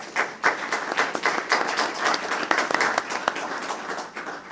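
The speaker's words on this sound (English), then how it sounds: "If we can give them a round of applause." Moderate applause from an audience at a community health district meeting on housing needs, a steady patter of many hands clapping with uneven bursts over about four seconds, heard alone without voices.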